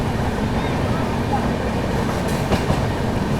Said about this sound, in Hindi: अपनी ट्रेन गोविंदपुरी रेलवे स्टेशन को स्किप कर रही है, और यहाँ पर हम लोग ओवरटेक कर रहे हैं